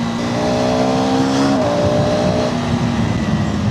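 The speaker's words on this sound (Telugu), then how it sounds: "The level of grunt this bike has, man." A KTM Adventure 390 X motorcycle engine revs up close, its rising tone dropping with a gear change at mid-clip and then pulling steadily again under wind rush.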